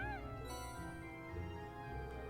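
A cat meows once in the Trails of Cold Steel video game, a short rising-falling cry at the opening over steady game music.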